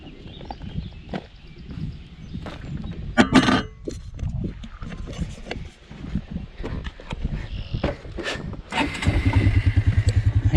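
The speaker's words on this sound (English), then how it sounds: "I think I'm gonna hop on the four-wheeler here." A four-wheeler ATV engine runs among rattles and knocks on a farm by a corn field, its motor settling into a loud, steady idle drone near the end.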